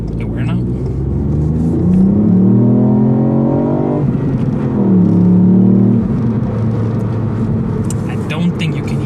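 A 2018 Ford Fiesta ST with a 1.5-litre EcoBoost engine and 200 hp revs its exhaust in race mode. Two strong rising revs with gear shifts sound from inside the car, and someone talks over them.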